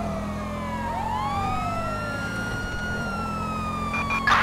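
Emergency vehicle sirens wail in the video game GTA 5 during a city police patrol, several overlapping tones sweeping up and down loudly over traffic rumble, with no talk.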